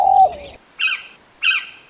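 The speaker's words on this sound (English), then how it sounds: "are gentle birds with soft cooing calls" A soft, low call opens, then two identical higher calls follow at even intervals, each short and clear against silence, matching the gentle cooing of doves found in North India.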